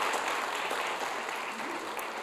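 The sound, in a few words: audience applause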